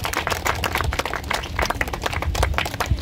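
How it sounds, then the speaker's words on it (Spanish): Applause from a congregation at a Catholic Mass honoring the Santísimo Señor de Jesús in Zacatepec, Tepexi de Rodríguez: dense, steady clapping filling the whole stretch at moderate loudness, with no clear talk over it. "Aplausos para Cristo nuestro Dios."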